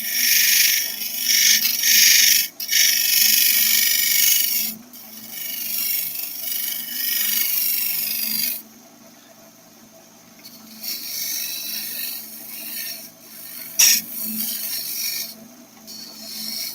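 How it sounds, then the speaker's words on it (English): A woodturning tool on a lathe peels off very fine tissue-thin shavings, a steady close hiss of cutting that swells and fades as the tool moves, with brief lulls and a couple of sharp knocks. "I'm really pulling off super fine tissue shavings on the bottom of this thing."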